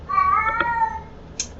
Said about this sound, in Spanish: ese es mi gato dando por saco.